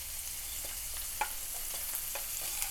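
Onion, curry leaves, green chili and capsicum sautéing in a pan for an instant kurma, giving a steady close sizzle with scattered soft stirring scrapes and clicks throughout.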